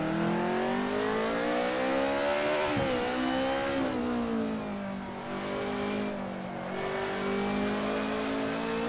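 A BMW M3 DTM race car engine drones loud and steady from inside the car on track, its pitch climbing and dipping with revs, including one sharp dip and recovery as it is worked through gears.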